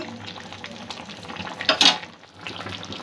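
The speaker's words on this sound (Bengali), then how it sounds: "আরও কিছুক্ষণ ফুটিয়ে নেব সবজিটা সেদ্ধ হওয়া পর্যন্ত" Snakehead fish curry with potatoes, beans and eggplant bubbling in a pot, a steady close sizzle and simmer with brief louder spurts of bubbling midway.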